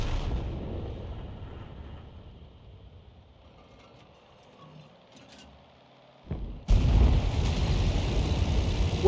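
Tank cannon fire in a World War II tank video game, with an M4A3 Sherman in the fight: low rumbling battlefield noise, then a sudden loud blast near the end followed by sustained heavy roaring.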